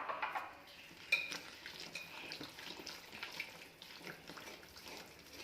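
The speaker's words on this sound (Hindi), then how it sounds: "अब मैं इसमें थोड़ा पानी करके डालूंगी और इस बैटर को तैयार करूंगी।" Water is poured into an eggless chocolate cake batter in a home kitchen, then stirred with soft, wet, uneven scraping and sloshing, close and quiet, with a small clink near the start.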